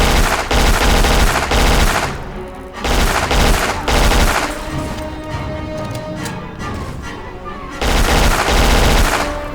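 Sustained automatic machine-gun fire in the first-person shooter Black, loud and dense with repeated bursts and heavy impacts, easing briefly mid-stretch before surging again.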